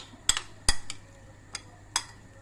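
A utensil clinks against a dish while Tunisian salad is tossed with a sprinkle of mint: about five sharp, scattered clinks at close range over a quiet background, with no talking.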